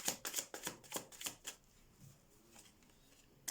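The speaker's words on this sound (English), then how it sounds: "So let's do your tarot cards here." Tarot cards shuffled up close in a quiet room: about ten quick papery slaps and riffles in the first second and a half, then near silence with one last soft tap at the end.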